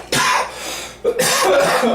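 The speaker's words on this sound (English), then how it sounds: "I accidentally coughed a flake in his monkey hair" Two harsh close coughs, a sharp throat-clearing burst followed a second later by a second rougher cough, loud and alone.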